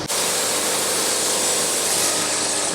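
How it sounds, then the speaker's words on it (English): A band sawmill cuts steadily through a log, a loud continuous broadband hiss and whine of the blade in wood, constant throughout with no talk. "But right now we're sawing a log, so I want to keep going."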